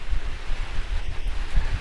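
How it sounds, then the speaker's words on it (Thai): Wind gusts across a mountainside during the rainy season with light drizzle, a steady rushing roar heavy with low buffeting against the microphone, close and fairly loud, with no voices. "ก็ลมพัดมาแล้วก็มีฝนฝอยน้อย"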